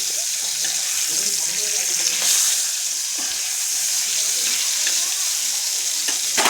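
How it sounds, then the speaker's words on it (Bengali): Fish fat frying in hot oil, a constant hissing sizzle with light bubbling, close and steady throughout, no talking. "মাছের তেলটা আগে ভেজে নিচ্ছি"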